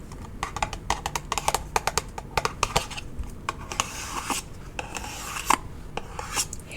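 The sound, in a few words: handling a perfume box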